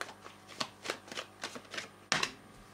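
Oracle cards being shuffled by hand, a quick run of crisp riffling flicks in an uneven rhythm ending in one louder snap, close and quiet with no voices.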